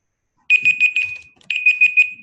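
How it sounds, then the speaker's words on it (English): A kitchen-style timer alarm goes off loudly and close by, sounding two bursts of rapid repeated high beeps separated by a short pause. "That be the timer."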